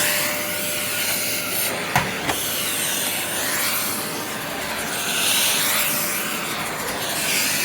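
A Bush multi-cyclonic bagless cylinder vacuum cleaner runs with a continuous whining drone, its pitch wavering as the nozzle catches and scrapes in a corner, with a couple of sharp knocks early on and no talking.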